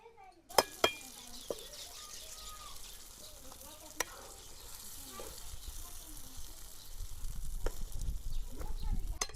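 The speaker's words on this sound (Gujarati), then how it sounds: "હવે આપણે ડુંગળી નાખી દઈશું." Whole onions drop into thick simmering gravy in a pan for a Kathiawadi whole-onion curry, setting off a steady sizzle broken by a few sharp clinks of utensils, the frying growing louder and rougher toward the end.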